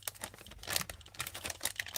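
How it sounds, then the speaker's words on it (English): A stiff Ziploc plastic bag being fumbled open, with close, busy crinkling and crackling in quick irregular bursts throughout, no voices. "It's a very fumbly, stiff Ziploc plastic bag."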